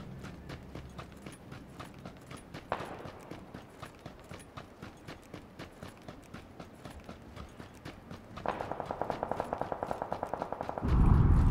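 A fast, steady series of gunshots runs throughout, then a sudden loud burst near the end as a car blows up, in a video game.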